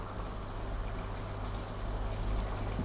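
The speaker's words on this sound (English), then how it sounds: "Just above a simmer." Lamb curry simmering in a pot makes a steady, quiet bubbling and popping, close by and unbroken for the whole stretch.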